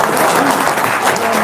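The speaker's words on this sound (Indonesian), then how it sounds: "Tepuk tangan dong untuk Bondan." An audience at a seminar applauds Bondan: loud, continuous crowd clapping that fills the short moment without a break.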